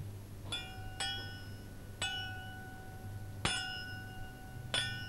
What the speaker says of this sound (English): A thin tinkling sound.